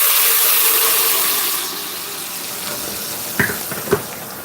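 Seasoning being poured into a hot pot while making Jamaican all-purpose meat seasoning: a steady sizzling, pouring hiss fades slightly, followed by two short sharp clatters near the end. No voices.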